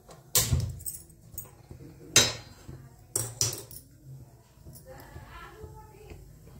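A gas stove in a home kitchen being switched on, with sharp metallic clicks and clatter in a few separate bursts, followed by quieter rustling.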